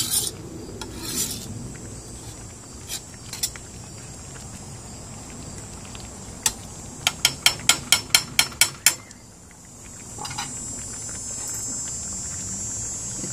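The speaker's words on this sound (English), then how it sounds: "Anything I feel stuck, I'm just gonna scrape it off." Scattered scraping clinks come from a pan without a nonstick coating as rice salad is loosened and mixed in a wok. A quick run of about eight sharp metallic taps sits in the middle, with softer rubbing between them.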